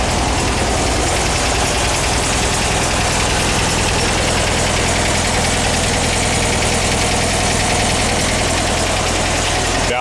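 A freshly installed engine in a VW double cab pickup idles while warming up, with its valves still needing adjustment. It gives a loud, close, continuous rough hum with knocking vibration, alone and without voices.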